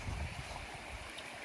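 A river in Narra, Palawan flows with a steady, soft wash of water noise that continues evenly without pause.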